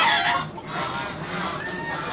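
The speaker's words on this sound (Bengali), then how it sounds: "মোরগ চিলাচিলি করার কারণে তো বেরিয়ে যাচ্ছে" A rooster squawks and clucks loudly on a rooftop in the midday heat, a run of agitated, fairly close calls filling the short moment with no talking.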